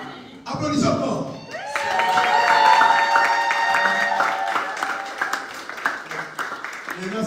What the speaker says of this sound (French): Applaudissons Paul